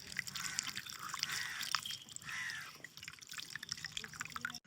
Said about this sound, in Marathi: पहिले कैऱ्या धुवून घेते